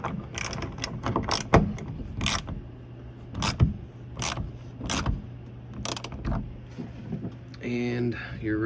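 Ratchet tightening a roof panel on a 1984-1986 Corvette, a repeated rhythmic clicking of the pawl in regular strokes up close, with brief speech near the end.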